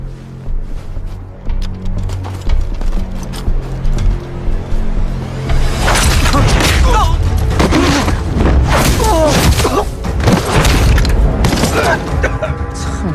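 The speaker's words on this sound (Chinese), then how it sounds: "就开枪" Gunshots ring out in a martial arts action film fight scene, with a quieter stretch giving way to a dense run of loud, sharp bursts and booming impacts over several seconds, mixed with scuffling and voices.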